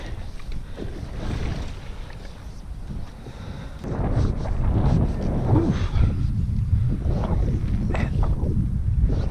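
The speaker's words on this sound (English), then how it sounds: "This wind needs to make up its mind. It picks up, then it dies down" Gusting wind buffets the microphone outdoors during spring striper fly fishing, a moderate rush that swells noticeably louder partway through and keeps surging in waves.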